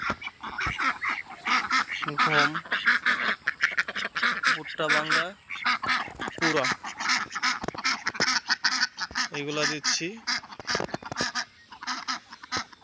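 Ducks being fed broken maize, honking and quacking repeatedly at close range in an excited flock, while someone talks over the calls.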